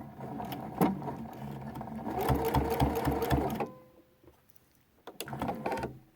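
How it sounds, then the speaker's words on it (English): A sewing machine top stitching quilt binding with a lengthened stitch runs in a fast, steady mechanical whir up close, pauses briefly, then starts again in a shorter burst. "when you do this top stitching, you might want to lengthen your stitch length."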